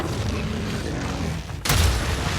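A bomb blast in the video game Monster Hunter Rise: one sudden loud, broad boom near the end, cutting through an already busy, rumbling game soundscape.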